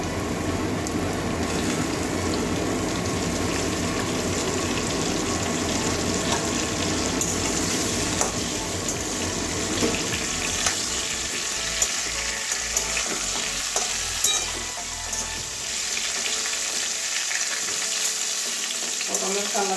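Pointed gourd (potol) pieces with turmeric sizzle steadily in hot oil for a long stretch, with occasional stirring clatter, before the frying quiets toward the end.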